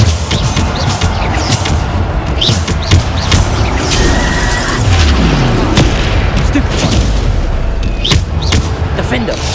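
Repeated Bombarda spell blasts in Hogwarts Legacy, loud booming explosions and crackling impacts layered over continuous battle noise, with a voice shouting spell names throughout.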